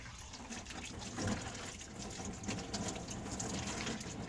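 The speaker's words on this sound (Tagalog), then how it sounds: "Yan. Hugasan ko guys ito." Tap water runs and splashes while something is being washed, a faint, steady, close trickle with small bursts of splashing.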